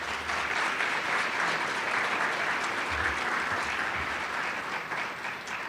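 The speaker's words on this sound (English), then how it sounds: "Another round of applause for them as well." A graduating class and guests at a school awards ceremony applaud together in a steady, dense burst of clapping that fills the hall at an even level from start to finish, with no voices rising above it.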